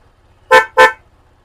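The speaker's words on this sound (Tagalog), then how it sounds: "meron pa rin dapat tayong busina. Dapat may busina tayo ha." Two short, loud electric horn beeps from a Motorstar Easyride 125 motorcycle being wired, close up, with a faint low hum underneath and nothing else.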